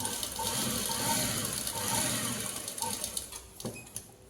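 A sewing machine runs in a steady, fast whirring burst while stitching the neckline of a suit, then slows and stops with a few mechanical clicks near the end.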